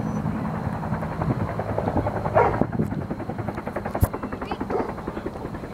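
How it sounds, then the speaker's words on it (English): A helicopter's rotor thumps in a steady rapid rhythm at moderate distance near a fire, with people talking over it and a dog barking once or twice. "I can't even see the helicopter anymore."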